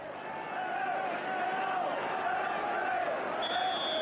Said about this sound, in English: And a crowd that's creating quite a din here.